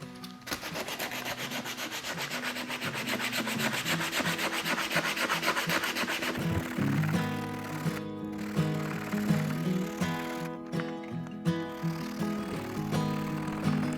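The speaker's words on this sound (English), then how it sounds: "Final sanding the brace ends." Hand sanding of wooden brace ends on a guitar-style box build, using a small template to protect the sides: steady rhythmic rubbing strokes, close and fairly loud, with no talking.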